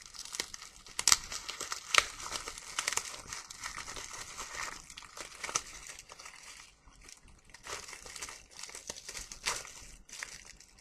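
Crinkly plastic packaging being torn and unwrapped from small vials, a close, continuous crackling and rustling with sharp tearing bursts, no voices.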